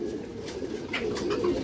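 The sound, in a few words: pigeon cooing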